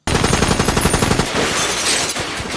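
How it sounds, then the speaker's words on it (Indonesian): Burst of gunfire from an attack on a police station in a movie, rapid loud shots in a dense rhythmic volley, then a harsher blast and scattered noise. "membredeli kantor polisi dengan tembakan"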